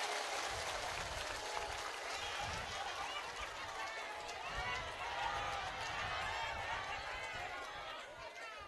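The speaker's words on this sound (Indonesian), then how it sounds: "Tepuk tangan dingin dong." Audience at a live comedic Islamic sermon in Tegal, held for Indonesia's 79th Independence Day, breaking into quiet applause mixed with crowd chatter, a continuous soft wash of claps and voices heard from a distance.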